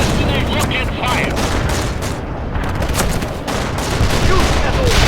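Sustained gunfire in the World in Conflict video game, a loud, dense fusillade of rapid shots and bursts that barely lets up, with voices shouting over the battle.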